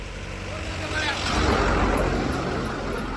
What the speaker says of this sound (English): there's a garbage truck coming